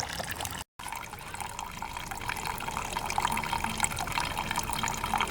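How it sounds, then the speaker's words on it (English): Gasoline trickles and splashes steadily out of a pressure washer's Honda side-shaft 179cc engine fuel tank, a continuous close, faint pouring stream. "I'm just draining out the gas tank"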